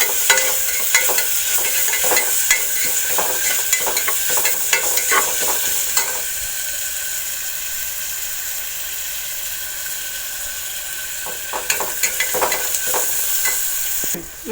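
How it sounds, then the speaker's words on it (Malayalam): Onion with ginger and garlic sautéing in a pan, a continuous close sizzle with frequent scraping stirs that thin out for a stretch before picking up again. "ഇഞ്ചി വെളുത്തുള്ളിയും കൂടി ഇട്ടിട്ട് നമുക്കൊന്ന് വഴറ്റിയെടുക്കാം."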